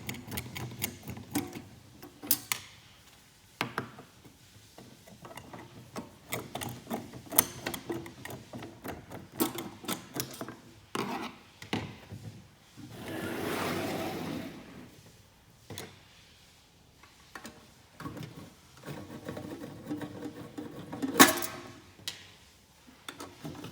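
A small screwdriver or tool ticks and clicks close up, taking the cover screws out of a Cremer CF830 tablet counter, with scattered taps, a brief whirring stretch in the middle and a sharp knock near the end.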